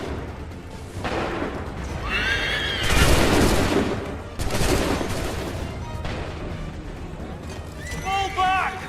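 Musket volleys in Assassin's Creed III crack out in several loud broadband bursts amid battlefield clamour, with shouted voices and horse-like noise mixed in.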